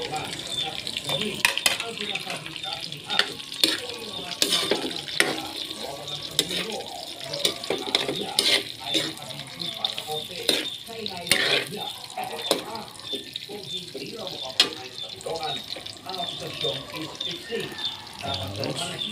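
Garlic and onion sauté in a pan as the base for a mung bean stew, giving a steady close sizzle broken by frequent sharp clinks and scrapes of stirring.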